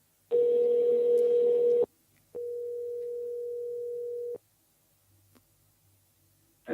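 A telephone line gives a short burst of loud buzzy tone, then a longer steady pure tone, then quiet, as a call is placed back.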